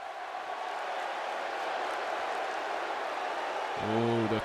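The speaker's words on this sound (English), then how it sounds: "the crowd did not like that dig at AJ Styles one bit" Crowd noise in the WWE 2K20 wrestling video game, a steady broad roar of a large arena audience reacting, fairly loud and continuous, with a voice starting to speak at the very end.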